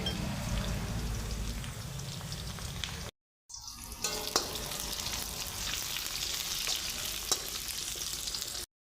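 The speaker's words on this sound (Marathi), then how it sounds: "याच्यामध्ये मी घालणार आहे काजू तर काजू पण यासोबत मी जरा फ्राय करून घेतो" Cashews frying together with onion in a pan give a steady, dense sizzle with occasional stirring clicks, broken by a short silent gap partway through.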